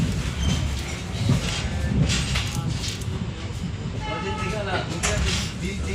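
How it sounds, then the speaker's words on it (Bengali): A train rumbles and clatters past close by with a steady heavy roar and a horn sounding, while people talk and call out over the noise. "ওই দাদার জন্য স্পেশাল ট্রেন, আমাদের জন্য স্পেশাল ট্রেন।"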